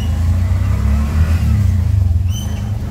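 A motorcycle engine runs steadily up close with a loud low rumble, while a brief high chirp cuts in near the end.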